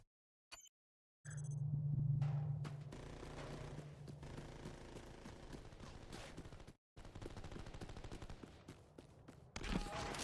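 The UV shotgun in Crackdown 2 fires in loud, close blasts mixed with game effects and brief silent gaps, under a dense roar of in-game noise.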